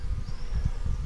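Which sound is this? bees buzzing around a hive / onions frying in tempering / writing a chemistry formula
bees buzzing around a hive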